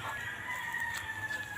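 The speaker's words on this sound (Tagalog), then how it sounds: "Ayan, may manok." A rooster crows once on a small farm, faint and somewhat distant, its drawn-out call sitting over low background rumble.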